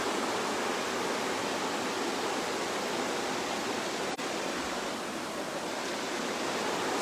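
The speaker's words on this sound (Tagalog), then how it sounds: "Sa ilog, ang mundo'y tahimik." A river flows in a steady, unbroken rush of water that stays loud and close throughout, with no voices over it.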